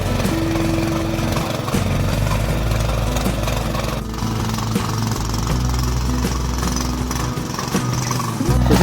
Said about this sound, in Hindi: नीचे उस खेत में ऑलरेडी ट्रैक्टर लग चुका है।